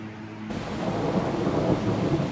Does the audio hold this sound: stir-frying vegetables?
no